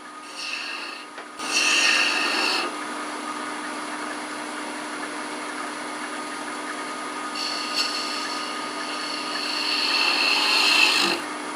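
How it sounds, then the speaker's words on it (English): Spindle gouge cutting a cove in wood spinning on a lathe, a continuous close scraping rasp over the steady motor hum, swelling louder in several passes. "the spindle gouge excels at turning coves as shown here"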